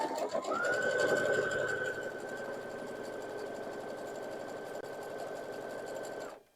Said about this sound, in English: So I'm just going to leave my needle down, flip it around, and keep sewing the other side.